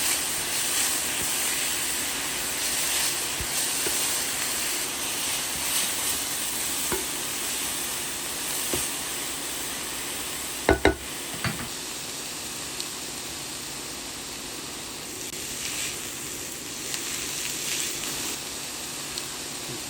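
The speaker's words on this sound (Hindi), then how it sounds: "अब इसको हाई फ्लेम पे अच्छी तरह से भून लेते हैं।" Dill leaves fry and are stirred on a high flame with a constant, dense sizzle and hiss close by. A couple of sharp clacks from the utensil break in near the middle.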